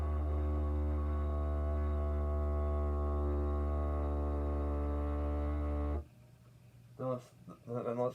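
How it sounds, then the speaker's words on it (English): A high-pitched didgeridoo gives a steady, buzzing drone with rich overtones for about six seconds, then cuts off abruptly, followed by a short spoken voice. "let's start out with the soft puffing noise"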